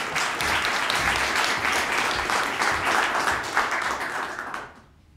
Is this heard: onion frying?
no